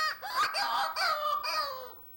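A human voice imitates a rabbit's distress call: a high, wavering cry like a baby wailing, in two or three strained bursts.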